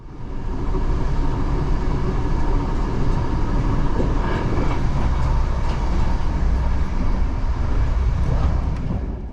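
A RegioJet loco-hauled passenger train rumbles along steadily and loudly, with continuous wheel and track noise and a low engine drone, no voices.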